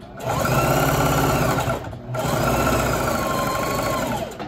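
A sewing machine stitching boat sails runs in two steady, fast-rhythmed bursts with a brief pause between, loud and close.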